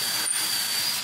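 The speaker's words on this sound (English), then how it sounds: "So right now I'm drilling pilot holes so it won't crack the frame whenever we drill into it." A power drill runs continuously and close up, boring pilot holes into a picture frame with a steady, bright whirring hiss.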